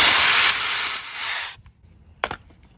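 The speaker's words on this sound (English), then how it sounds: "Make sure you drill from the back, that way the wood fibers are being pulled back up through the hole" A power drill bores through a piece of wood, drilled from the back side. Close whirring and grinding run for about a second and a half, then stop, and a brief knock follows.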